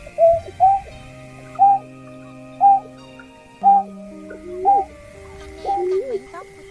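A recorded Nhát Hoa bird call repeats a short, clear hooting note about once a second, loud and close, and ends in a few rising, warbling phrases over a faint steady tone.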